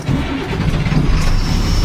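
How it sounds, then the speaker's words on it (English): A school bus diesel engine starts and settles into a loud, steady low rumble with no break for the whole stretch. "I will now start the engine."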